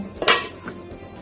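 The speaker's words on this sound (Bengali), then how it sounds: "খুব সামান্য আরেকটু দেব পনেরো মিনিটের জন্য ঢেকে দেব" A lid is set down on a pot of chicken cooking on the stove, giving one short, close metallic clank followed by quiet room tone.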